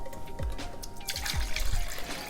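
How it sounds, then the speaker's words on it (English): Reserved brine pours into a hot sauce mixture for Red Scorpion hot sauce, a steady liquid trickle with soft splashing drips, alone and fairly close. "We're gonna add that brine in there too."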